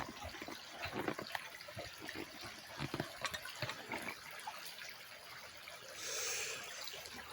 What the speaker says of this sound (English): We got running water, agua.